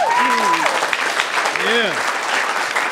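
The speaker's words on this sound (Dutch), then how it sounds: "En waar is een groot applaus voor de boy, Steven." Audience applause for Steven at a Dutch book launch, a dense, steady wash of clapping with voices calling out over it.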